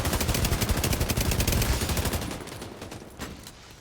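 Rapid automatic gunfire shooting at a turret in The Division 2, a loud, dense stream of shots that rattles on steadily, then thins to a few scattered bursts as it fades.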